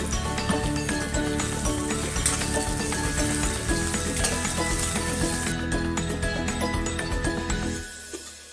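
Ground fresh coriander chutney paste frying in a pan with curry leaves and garlic, giving a loud, steady sizzle that fades toward the end.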